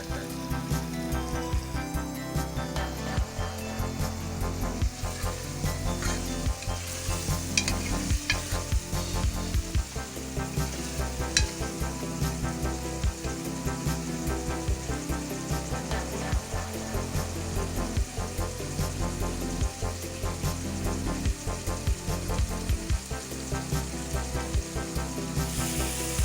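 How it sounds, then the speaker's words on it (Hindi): Potatoes and bitter gourd with onion frying in a pan, a loud dense sizzle running continuously with constant crackle and occasional stirring scrapes. "फ्राई हो रहे हैं, मेरे ख्याल तकरीबन फ्राई हो चुके हैं आज।"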